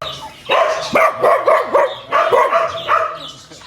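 Several sharp barks and yips from a friendly dog at a resort in Munnar, coming in quick close bursts with short gaps between them.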